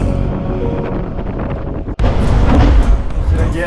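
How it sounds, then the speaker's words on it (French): Strong wind at sea off Cape Finisterre during the Mini-Transat solo sailing race roars loudly as it buffets the microphone, mixed with rushing water and hull rumble, with a brief drop in the gusting midway. "Je savais qu'on serait un peu attrapé par le vent au Cap Finistère."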